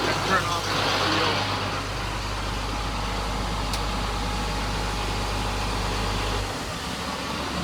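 A 2000 GMC C6500 flatbed tow truck's engine idles steadily with a loud, constant low rumble that drops in pitch near the end as the idle is lowered, with cab fan noise above it.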